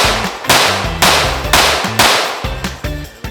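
A Lone Wolf Arms Alphawolf pistol with an LR01C slide fires five PMC 115-grain rounds outdoors, each a sharp, loud crack spaced about half a second apart, with a short decay between shots.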